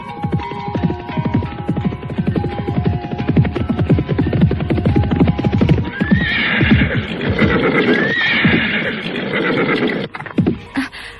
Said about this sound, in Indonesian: Suasana di padepokan itu pecah oleh datangnya seekor kuda yang berderap